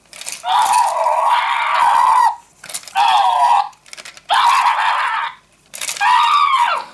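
Four shrill, warbling electronic screams from a Halloween monster toy in separate bursts, each about a second long with short gaps, loud and close with no talking.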